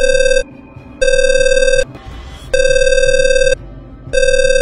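An unanswered telephone rings alone in four long electronic bursts separated by short gaps, loud and close, with no one picking up.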